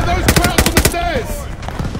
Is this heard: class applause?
no